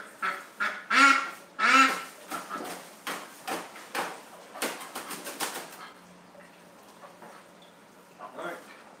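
Ducks in a hospital setting, one with a sore foot, give a run of loud close honks and quacks in rapid bursts, fading to scattered calls and quieter rustling toward the end.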